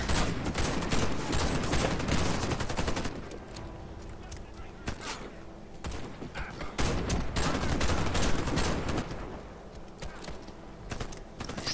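Sharp gunshots from sniper rifles ring out in Warface, heard in clusters with short gaps between them. Game noise and keyboard clicks sit underneath, and a voice talks over parts of it.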